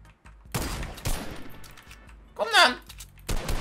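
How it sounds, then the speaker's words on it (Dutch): Gunfire in a battle royale video game, a few short bursts of shots spread across a few seconds with voices talking between them. "Ik weet niet wie op me schoot, maar ik ga terugschieten"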